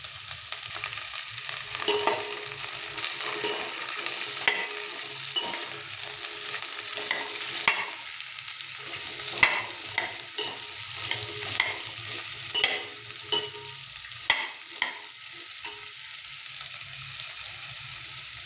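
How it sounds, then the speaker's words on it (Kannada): Sweet pumpkin frying in a pan with a steady sizzle, stirred throughout with repeated scraping clicks of a spoon against the pan, close and moderately loud, with no voices. "ಇವಾಗ ಸಿಹಿ ಕುಂಬಳಕಾಯಿನ ಹಾಕೋಣ ಲೆಟ್ಸ್ ಆ್ಯಡ್ ಸ್ವೀಟ್ ಪಂಪ್ಕಿನ್ ಇದನ್ನು ಅಷ್ಟೇ ಚೆನ್ನಾಗಿ ಫ್ರೈ ಮಾಡ್ಕೊಬೇಕು"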